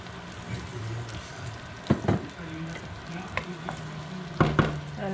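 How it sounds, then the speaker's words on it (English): Evaporated milk poured into a pan for chicken à la king, sizzling steadily as a spoon stirs through it, with a few sharper scraping knocks against the pan. "we're gonna add the evaporated milk,"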